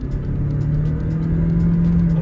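A Toyota Corolla TS hybrid with a CVT gearbox accelerates, its engine holding a steady droning hum that rises slowly in pitch under a loud, continuous road rumble, heard from inside the car without talk.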